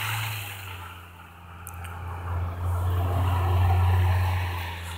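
A rough-sounding engine runs steadily with a low droning hum that swells louder toward the end, heard alone without talk.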